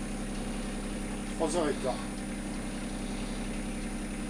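Sailboat engine running at 1000 rpm during a solo night crossing toward Corsica, a low, even idle hum that holds steady throughout while someone speaks briefly over it.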